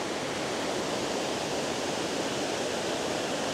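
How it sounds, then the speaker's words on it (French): The Martin Grove waterfalls pour with a continuous, broad roar, a steady rushing wash that stays loud and unchanging from start to end with no voices. "Et puis ici, vous avez toutes les cascades de Martin Grove."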